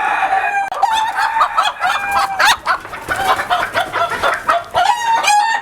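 Large fancy-breed chickens, including Indonesian Sumatra birds, on an ornamental poultry farm crow and cluck loudly and continuously, with many overlapping calls and a prominent crow near the end.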